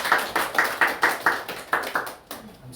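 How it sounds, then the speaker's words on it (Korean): After a Bible lecture on the Gospel of Matthew, a small audience claps in about ten distinct, rhythmic unison claps, fairly close and loud, tapering off at the end. "우리 하나님께 박수를 드리겠습니다."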